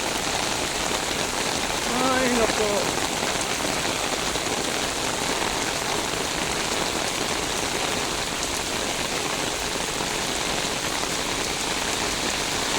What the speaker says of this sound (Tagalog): Grabe po ang ulan.